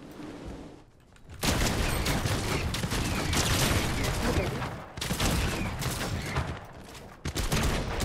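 Gunfire in the Fortnite video game during a one-on-one match: loud, dense bursts of rapid shots that run for several seconds, stop briefly and then start again.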